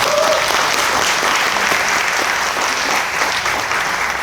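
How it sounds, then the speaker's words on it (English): An awards ceremony audience for a city school system claps loudly and steadily; dense applause fills the room from start to finish. "let's give everybody a big round of applause."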